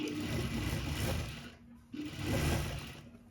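Sewing machine stitching a fancy sharara top with a straight machine seam, running in two steady bursts of whirring with a brief pause between, close and alone.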